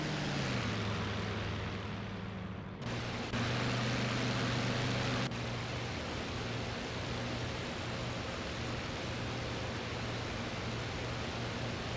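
A C-47 transport plane in a flight video game drones steadily with a loud, continuous engine roar and hum that shifts abruptly partway through, then holds constant with no voices.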